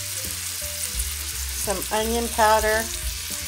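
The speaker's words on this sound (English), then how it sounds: "in a heated pan I added my steak on" Steak sizzling in a heated pan while a voice talks over it about seasonings; a constant fry hiss sits beneath the speech at close range.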